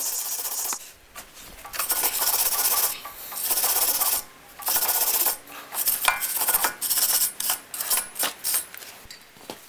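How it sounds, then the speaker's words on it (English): A wire brush scrubs loose rust off a car wheel hub during a brake rotor change on a 2009-2014 Toyota, in loud, close, harsh rasping strokes, a few long ones and then a rapid run of short scrubs. "Clean up any loose rust on the hub with a wire brush."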